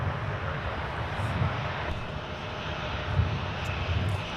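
Steady roaring jet engine rumble from a Boeing 777 airliner taxiing toward the listener at MSP airport, loud and continuous with a broad whooshing hiss and no clear talk.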